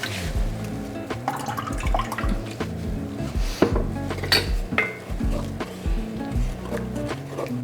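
Browned ground beef is stirred into a pot of milk and beef broth, with repeated scraping and knocking of a utensil against the pot and a soft wet churn, close and steady, with no talking.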